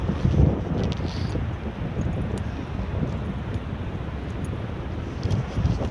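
Steady wind near Niagara Falls buffets the microphone with a low, rumbling roar, gusting a little stronger at moments; no voices.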